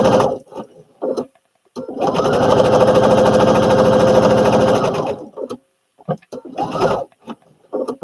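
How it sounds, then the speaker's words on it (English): A sewing machine runs steadily for about three seconds while stitching the inseam of a Butterick B5572 garment. Short bursts of speech come before and after the stitching. "We're sewing the inseam right now."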